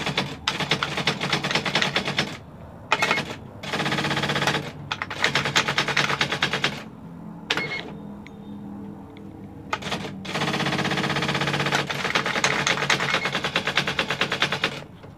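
An IBM 1000 typewriter is typed on in rapid clattering bursts, dense runs of sharp key strikes separated by short pauses and a few isolated clicks, close and loud.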